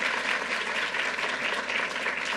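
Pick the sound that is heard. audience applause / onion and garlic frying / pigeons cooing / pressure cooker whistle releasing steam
audience applause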